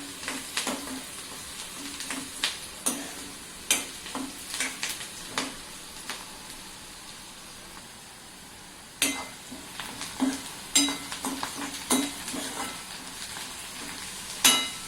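Onion sautéing in oil in a home kitchen pan while turmeric goes in, steady soft sizzle under repeated sharp scrapes and clinks of a stirring spoon against the pan, up close.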